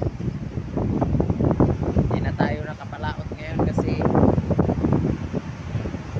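Strong wind gusts at the seashore where the sea is rough and choppy with boats nearby, roaring steadily as mic buffeting under someone talking throughout.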